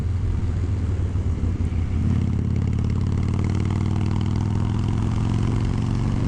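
Harley-Davidson Bad Boy motorcycle running steadily, a deep continuous engine rumble with clattery overtones that rises slightly in pitch partway through, loud and close with no talking.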